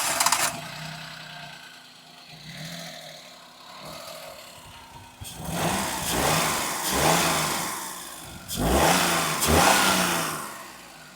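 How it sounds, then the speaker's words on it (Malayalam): A Maruti Suzuki Alto 800 engine idles quietly, then revs up in several rising bursts, each swelling and falling back, the last two strongest and close, with no talk. "നമുക്ക് ഇനിയിപ്പോൾ നമ്മളുടെ എൻജിൻ സൗണ്ട് ഒന്ന് കേട്ട് നോക്കാം"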